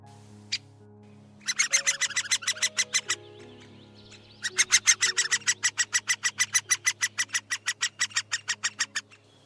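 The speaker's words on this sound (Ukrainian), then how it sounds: "Наступний знайомий вам птах дятел." A woodpecker calls in rapid, evenly spaced bursts of sharp high notes, two long trains after a single opening note, clear and close against a faint steady background hum.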